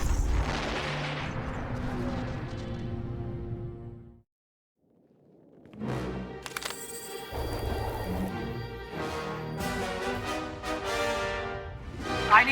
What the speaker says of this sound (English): They've got cannon.